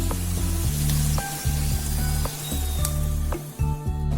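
Paneer fries in a pan until golden, giving a loud, dense sizzle with repeated bursts of spattering oil and a low steady hum beneath, without any talking.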